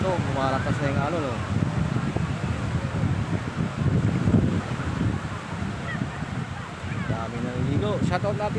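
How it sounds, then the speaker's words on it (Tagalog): Ocean waves growing stronger at a beach, a continuous low wash of surf and wind noise, with people talking over it and a few honking calls at moments. "lumalakas na yung alon"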